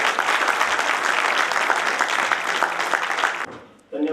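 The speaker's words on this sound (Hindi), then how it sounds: "जोरदार तालियों के साथ में स्वागत" An indoor audience gives loud, sustained applause to welcome a speaker, a dense patter of many hands lasting several seconds before it abruptly fades and a voice begins.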